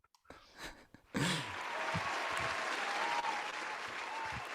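Crowd applause sound effect bursting in suddenly after a soft breath and continuing as steady, dense clapping that stays loud and even to the end.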